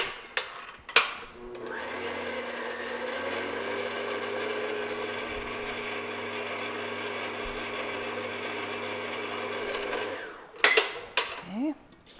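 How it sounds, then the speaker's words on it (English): Electric hand mixer running steadily on low speed, beating flour into pumpkin cupcake batter in a bowl, a continuous close whir lasting about eight seconds with brief knocks before and after. "I'm just going to add about 1/3 of the flour, and I'm just going to beat that in. Keep your mixer fairly on low speed"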